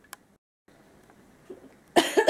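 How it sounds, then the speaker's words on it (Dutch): A single person gives a harsh cough close to the microphone after a few faint rustles and a brief silence. "En dan moet ik hoesten."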